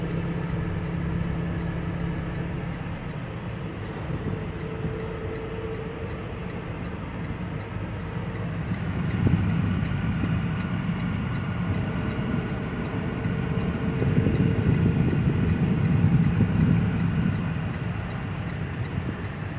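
Trains rumble at a busy rail container ramp, a steady low drone of rail cars with swelling passes and faint ticking, heard from a moderate distance with no voices.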